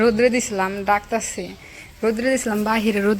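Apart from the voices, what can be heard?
No everyday noises stand out.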